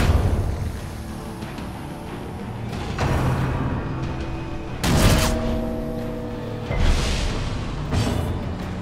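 A gun blast attack in Darkest Dungeon: a sharp, loud boom rings out over a steady rumbling game background, followed by a second, slightly softer blast a couple of seconds later.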